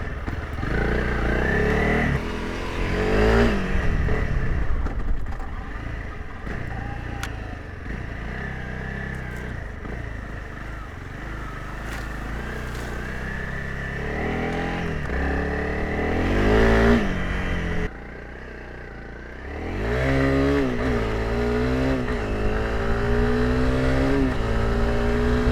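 A 2023 Honda CRF300L Rally motorcycle engine runs steadily while riding, chugging in second gear at low revs around 3,000 RPM, with rises and dips in engine note, a brief drop in level, and wind noise throughout.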